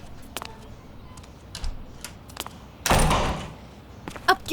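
A door shuts in a single short thud partway through, set in a quiet indoor room after some faint clicks and small handling noises.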